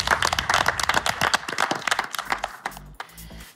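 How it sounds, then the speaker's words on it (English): Audience applause for three presenters at the close of a business-themed show episode, a dense burst of clapping that thins out toward the end. "why don't we give them a round of applause"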